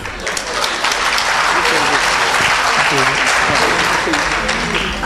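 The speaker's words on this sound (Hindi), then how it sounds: "जोरदार तालियों से स्वागत करें" Steady, loud applause from a crowd at a Hindi comic poetry gathering fills the whole stretch, dense clapping that swells slightly and holds without pause.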